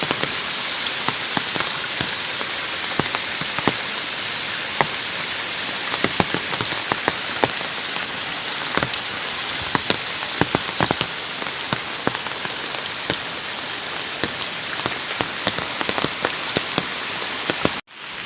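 Heavy monsoon rain pours steadily in Konkan with stormy wind, a dense continuous hiss scattered with sharp drop impacts, loud and unbroken, with no voices.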